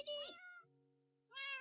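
A baby cat in the Minecraft video game gives two clear, high meows close up, separated by a short lower tonal pause, with no talking.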